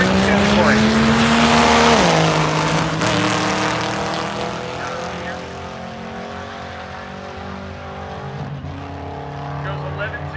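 Jarrett Anderson's D150 diesel drag truck roars past loud and close, engine pitch climbing and then falling away as it races down the strip at a radial drag racing event, with crowd noise in the background.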